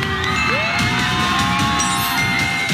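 A live television audience cheers and whoops with a steady crowd roar, loud and continuous, while a tonal music sting rises over it.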